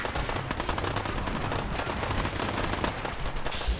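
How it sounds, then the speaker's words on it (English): Rapid, sustained gunfire from the player's weapon in Fallout 4, dense automatic bursts rattling continuously and loudly across the whole stretch, with no talk over it. "because I'm just shooting everyone at the moment"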